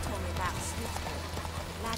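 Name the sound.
horse galloping in The Witcher 3 video game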